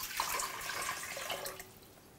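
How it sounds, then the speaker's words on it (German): Water poured into a bread machine holding light rye flour, water and a little active malt flour for rye bread dough, a steady splashing trickle at close range that thins out toward the end. "So, wir geben das Wasser dazu."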